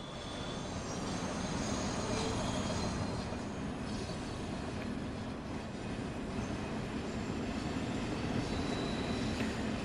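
A DB BR 182 locomotive in the Train Sim World 2 video game, rolling with a steady, dense rumble and clatter of rail noise and faint high squealing, continuous and fairly quiet, with no voices.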